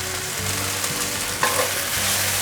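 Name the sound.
stir-frying potatoes with red and yellow peppers and cucumber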